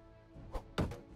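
A wooden cart wheel is broken apart in Medieval Engineers, giving two dull thunks about a quarter second apart, the second louder and fuller, with no talk over them.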